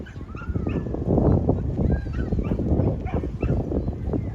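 Several dogs bark, yip and whimper together outdoors at a trainer certification test with four dogs, a busy overlapping chorus of close yelps and whines over wind.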